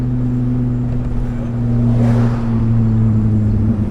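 A tuned BMW E30 engine held at partial throttle, a loud steady drone with strong low harmonics that swells slightly midway, close and continuous with no talking.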